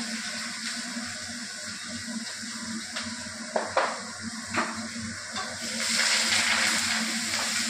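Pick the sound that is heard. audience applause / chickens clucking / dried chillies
dried chillies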